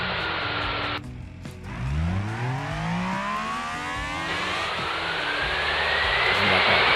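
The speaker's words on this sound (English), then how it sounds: "The audio doesn't really like it when the engine revs that high" An engine revs up high with a rising whine that sweeps upward, then holds a loud, strained howl with a thin whistle over steady road noise.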